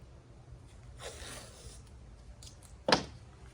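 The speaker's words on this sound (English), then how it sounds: "With that, I'm gonna take some tape." Painter's tape is pulled off the roll with one soft ripping stretch, then a short sharp tearing snap near the end, close and fairly quiet.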